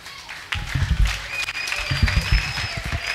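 A church congregation applauding and cheering together, a dense burst of clapping and voices that holds steady and loud throughout.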